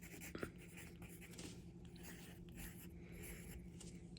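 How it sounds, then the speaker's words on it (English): Pen scratching across paper in steady strokes, quiet and close, over a faint low hum with no talking. "I'll just write."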